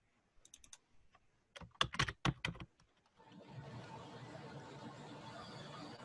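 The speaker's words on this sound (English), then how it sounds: "Hopefully you do a better job of typing the question text than I did." Keys clatter on a computer keyboard in a quick, uneven run of close taps, then give way to a steady low hiss of background noise.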